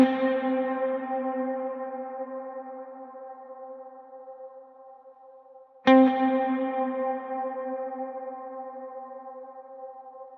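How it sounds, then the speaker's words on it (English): A shimmer reverb with its pitch shifting taken out lets a sustained tone ring and slowly decay, then a second sharp attack blooms into another long, fading reverb tail. "So here is the sound of the shimmer with those pitch shifts taken"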